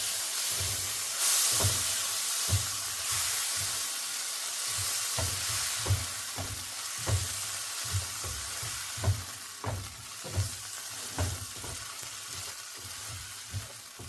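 Onion and tomato with turmeric fry in a pan with a steady close sizzle, while regular stirring scrapes and taps sound at about one-second intervals.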